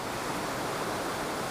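Fast, strong river water at a usual fishing spot rushes in a dense, even roar, loud and constant throughout, with no voices.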